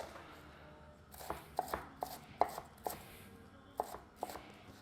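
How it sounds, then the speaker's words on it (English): A knife dicing an onion on a cutting board, with a string of sharp, crisp chops at an uneven pace over quiet kitchen background, loud and close, no talking. "now we're gonna go horizontal cuts, nice and diced"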